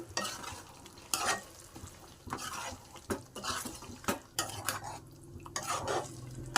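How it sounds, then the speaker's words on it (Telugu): A spoon scrapes and stirs onion-tomato paste through frying mutton curry in a metal pot, with irregular scraping strokes over a steady sizzle, close up and moderately loud, no talking. "ఇప్పుడు అవి వేసుకుందాం ఒకసారి బాగా కలుపుకుందాం"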